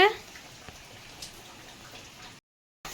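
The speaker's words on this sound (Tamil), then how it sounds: "நல்ல மழை." Soft, steady patter of rain with scattered drops, faint and close, briefly cut to silence near the end.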